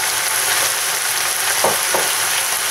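Chicken sautés in a hot pan with ginger, green peas and spices for a Filipino-style samosa filling, giving a steady close sizzle with a couple of brief scraping stirs near the end.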